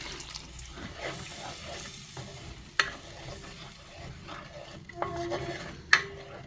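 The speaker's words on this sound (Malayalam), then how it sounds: "അപ്പോൾ നന്നായിട്ട് തിളപ്പിച്ച വെള്ളം നമുക്ക് കുറച്ച് ഒഴിച്ചു കൊടുക്കാം" Boiled water poured into frying ginger curry (inchi curry) in a pan, giving a low sizzle and stirring clatter with a few sharp spoon knocks against the pan.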